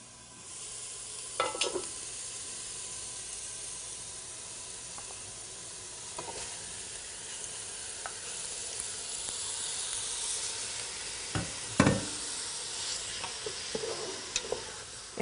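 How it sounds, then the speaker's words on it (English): Two pounds of bite-sized beef cubes sizzle in a hot pan for Hungarian goulash, a soft continuous frying hiss under scattered scrapes and clacks as the meat is stirred. "And you just keep stirring so that the meat gets a little brown."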